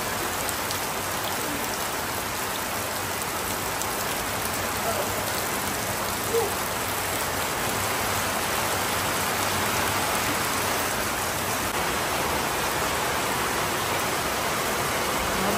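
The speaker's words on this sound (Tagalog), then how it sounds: "grabe ulan" Heavy rain pours down steadily, a dense, constant hiss of drops drumming on surfaces with no pauses.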